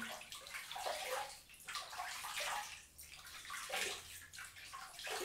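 Close splashing and sloshing of water in bursts as hands scoop water up and splash it repeatedly onto the face before shaving.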